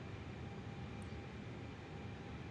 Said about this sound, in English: Exhaust gas temperature is rising as our APU starts up